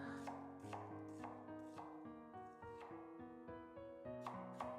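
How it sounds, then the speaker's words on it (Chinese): A knife chops half an onion into thin strips on a cutting board, a steady run of crisp, regular taps close by with soft music playing underneath. "最后准备半个昨天没吃完的洋葱，给它切成细细的洋葱丝"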